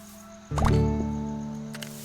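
Plants being watered in the video game Winkeltje: The Little Shop, a sudden squishy splash of poured water with a gurgling tail over a steady tonal game background.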